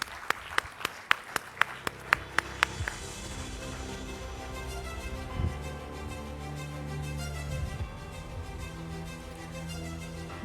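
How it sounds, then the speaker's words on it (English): Graduation ceremony audience clapping at a business institute: a few sharp, distinct claps up front, then faint, scattered applause fading under a low, distant background hum. "Shall we give them a good round of applause?"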